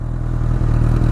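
A 2019 Honda CB1000R motorcycle with a Termignoni GP2R exhaust revs steadily to about 4,000–5,000 rpm at close range, a loud, throbbing low rumble with a rapid pulsing beat and a brief dip midway.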